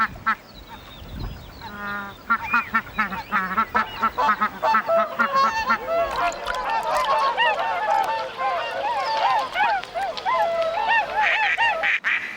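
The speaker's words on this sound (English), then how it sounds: "This shell duck is calling her babies, and they'd know her honk anywhere." A shelduck honks loudly and repeatedly to call her ducklings, a rapid run of close, insistent calls that build and continue, with other waterfowl noise mixed in.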